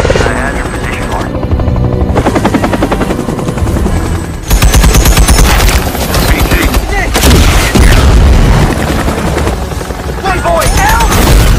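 Film battle scene with a helicopter under attack from terrorists on all sides: a loud, continuous rotor roar mixed with bursts of gunfire and booming explosions, with a dense, busy score running throughout.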